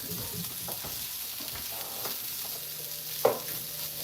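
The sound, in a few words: onions frying and being stirred in a pan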